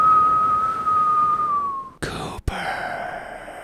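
A person whistles one sustained, steady note for about two seconds with a slight downward drift in pitch, then it cuts off. Brief rustling bursts follow. Part of a comedic Coopers underwear commercial skit.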